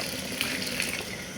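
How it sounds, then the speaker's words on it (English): Steady rushing water pours into a large cooking pot holding leaves for a fruity zobo drink, a continuous close gush with no pauses. "So now I'll be putting water inside."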